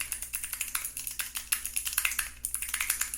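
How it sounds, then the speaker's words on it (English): Rapid, irregular clicking of computer keys, a continuous burst of fast typing heard close up with no voices. "I'm typing as fast as I can."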